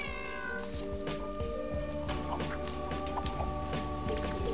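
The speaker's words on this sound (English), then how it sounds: "That's a flame-throwing cat." Cartoonish cat meowing in the video game LittleBigPlanet, a flame-throwing cat character, repeated meows over steady game music with bright tonal lines, fairly loud and close, no talk.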